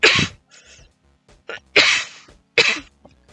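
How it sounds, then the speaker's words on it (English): A person coughs close to the mic in a short fit of several harsh bursts, with brief quiet gaps between them. "Not wearing a mask when you cough?"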